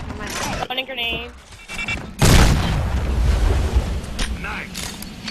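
A grenade goes off in a multiplayer shooter with a loud, close boom that rolls into rumbling debris, following a few seconds of someone talking over clattering game sounds.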